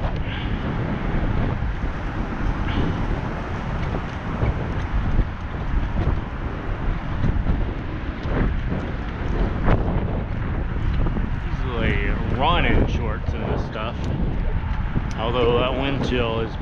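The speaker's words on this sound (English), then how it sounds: "the wind is blowing" Strong outdoor wind buffets the microphone in a steady, loud low rumble, and a person talks over it toward the end.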